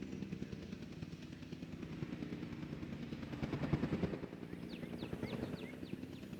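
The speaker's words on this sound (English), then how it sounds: "we can see where the helicopters are dropping them off" A helicopter in the video game Jurassic World Evolution 2 thrums steadily with a rapid rotor chop, swelling briefly midway, while faint bird-like chirps appear near the end.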